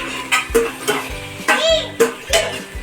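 Whole spices such as cloves, pepper, fenugreek and asafoetida frying in hot oil at home while making raita chillies, with close stirring scrapes and pan knocks in bursts over a soft sizzle.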